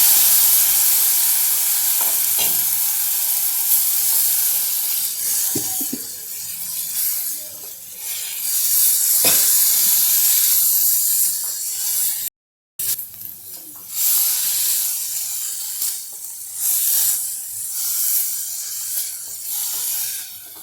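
Sliced bitter gourd hisses and sizzles in hot oil with crushed green chili paste, a loud steady frying roar with occasional stirring clinks and a momentary cut.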